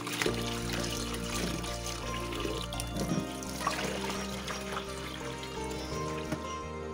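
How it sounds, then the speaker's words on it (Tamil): Faint running water trickles and splashes steadily while raw meat is rinsed by hand in a home kitchen, with a low background hum. "இப்படி நமக்கு இந்த மஞ்சள் கலர் போகிற வரலும் கழுவணும்"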